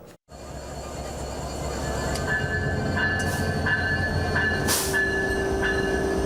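A special agricultural-produce train from Rohanpur, Chapainawabganj, rumbles steadily along the rails, wheels clattering and faintly squealing, loud and close with no voices.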